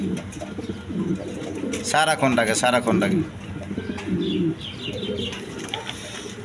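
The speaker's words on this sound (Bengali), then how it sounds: "এখানে এক পেয়ার ডেনিস আছে, কোয়ালিটি সম্পন্ন কবুতর" A pair of Danish pigeons coo in a market setting, their soft, low rolling calls repeating in short bursts near the microphone while someone talks over them.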